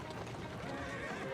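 A horse whinnies during carriage driving in the video game Assassin's Creed Syndicate, a brief neigh over steady clip-clopping hooves and street noise, fairly loud and continuous across the short moment.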